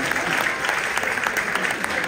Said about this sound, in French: un bonus d'applaudissements le ferait encore bien.